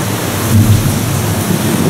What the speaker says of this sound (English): this monsoon storm just hit. This is a doozy.